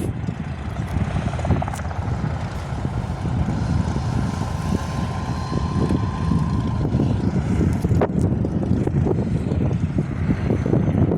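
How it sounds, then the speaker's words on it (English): An RV-8 light aircraft with a United States Air Force star on its side taxis out for takeoff on a windy day, its steady engine drone blended with constant rushing wind buffeting the microphone. "An RV-8 with the United States Air Force's star on the side of it is taxiing out for takeoff."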